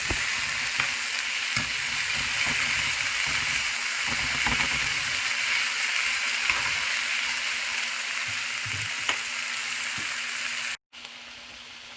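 Sliced cabbage seasoned with adobo sautés in a hot pan, giving a continuous loud sizzle broken by repeated tossing and stirring scrapes, then a sudden cutoff near the end.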